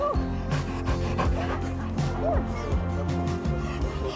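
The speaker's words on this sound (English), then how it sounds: "Great, so many dogs, and they've opened the gates." Crowd of dogs at a dog show, mostly working spaniels and Springer spaniels, barking, yipping and panting close by in an overlapping, busy chorus, with some human voices mixed in.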